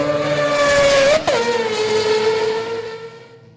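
A custom billet four-rotor Mazda rotary engine revs loudly and close, holding a high buzzing pitch, briefly cutting out, then settling lower and fading away.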